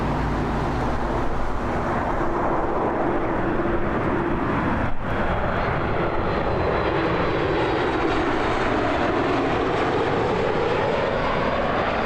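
Flair Airlines Boeing 737 MAX 8 jet, flight 312 from Winnipeg, at Toronto Pearson, a loud steady engine roar with a sweeping pitch shift as it passes close by, one brief sharp thud midway.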